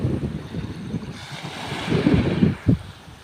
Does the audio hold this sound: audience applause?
no